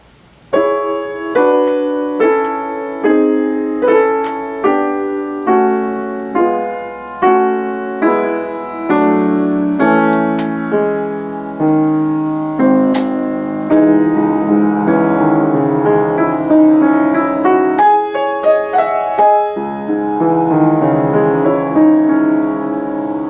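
A piano plays a passage of evenly spaced notes and chords in a steady, regular pulse, fairly close and clear, with no talking.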